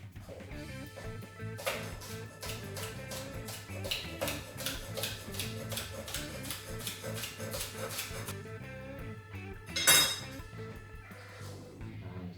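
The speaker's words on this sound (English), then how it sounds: "Scallions. I'm just going to slice these finely." Knife slicing scallions finely for fish tacos on a cutting board, a fast steady run of crisp tapping chops under a background music bed, with one louder knock near the end.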